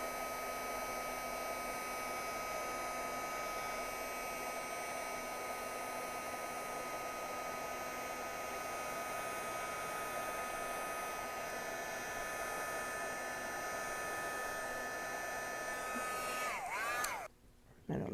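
An electric heat tool blows a steady, even whir while melting gold embossing on a card, a constant close drone with a faint tonal hum that cuts out abruptly near the end.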